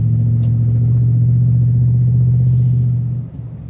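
A car rolls along a slightly wet gravel stretch of road in early spring, giving a loud, steady low rumble up close that eases off near the end.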